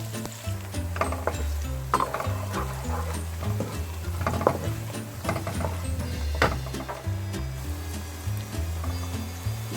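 Onions fry in a pan with garlic ginger paste for kadhi pakora, giving a continuous sizzle under repeated scraping and stirring strokes of a spoon, fairly loud and close; no talking.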